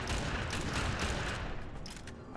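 The Pyrana, a shotgun-style pistol in Warframe, fires in a dense rapid volley of blasts mixed with other gunfire, loud and close with a chaotic burst of overlapping shots that tapers slightly toward the end.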